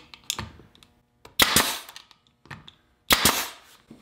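Three sharp pneumatic bursts of a nail gun fire one-inch nails into a clamped molding miter, each a loud crack followed by a short hissing tail, with smaller clicks in between.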